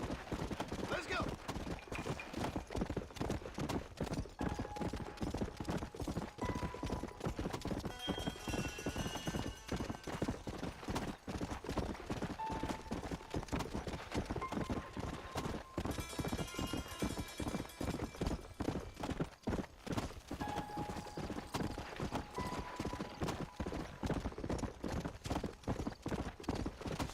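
Horse hooves clip-clop in a steady galloping rhythm throughout Red Dead Redemption, loud and continuous, with faint gunfire-like bursts and game sounds mixed in the background.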